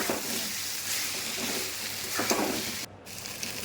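Potatoes and fish heads frying with rice in a hot pan, a steady close sizzle with stirring scrapes and occasional spatter, softly continuous throughout.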